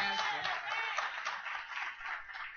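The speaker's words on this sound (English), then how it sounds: "Come on and give God a clap praise for our pastor." A church congregation claps in praise for their pastor, a dense steady patter of many hands close by, with voices mixed faintly underneath throughout.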